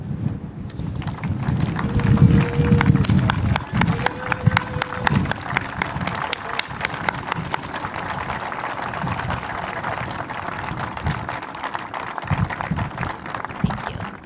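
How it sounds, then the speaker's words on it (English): Audience applause for tribal leaders at a conservation event, a dense, steady patter of many hands clapping that runs throughout, with low wind rumble underneath. "Please stand so we can honor your hard work with a round of applause"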